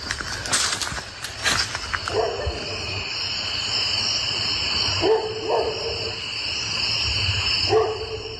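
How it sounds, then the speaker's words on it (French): Dogs bark at night outside near a field while campers walk toward it, giving a few distant, spaced woofs under steady night-insect noise. "Les chiens se mettent à aboyer frénétiquement"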